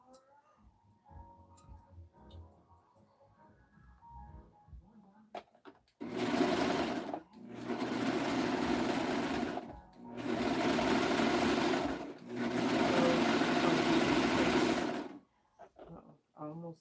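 A serger sews fabric for a rainbow jumpsuit in three loud, fast-chattering runs with short pauses between them, close by. A voice talks quietly before the stitching begins.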